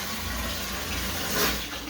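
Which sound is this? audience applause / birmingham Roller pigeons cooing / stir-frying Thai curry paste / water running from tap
water running from tap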